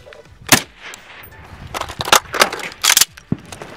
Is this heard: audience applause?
no